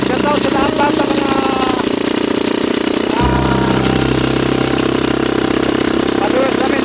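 A motorcycle engine runs steadily and up close with a low, throbbing drone that shifts to a heavier, fuller tone about halfway through, while someone talks over it.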